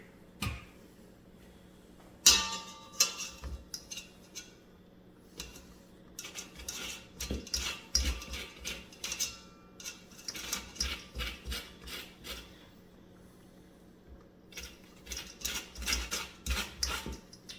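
A lemon rubbed over the fine side of a metal box grater, heard as repeated bursts of scraping strokes in an uneven rhythm with short pauses between them, close and fairly quiet, with no talking.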